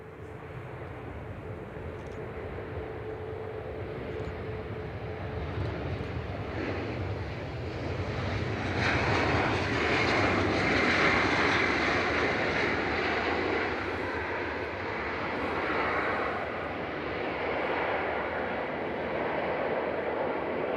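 A British Airways shuttle airliner arriving from Heathrow and landing at Manchester Airport, a broad jet engine roar that swells to a peak midway and then holds steadily at a distance.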